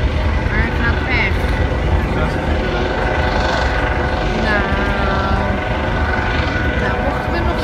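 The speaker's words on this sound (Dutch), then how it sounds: "Maar daar gaat de helikopter. Maar het gaat weg." A helicopter flying away drones steadily in the distance, its rotor thrum holding a constant level, with people talking over it now and then, at the World Port Days in Rotterdam.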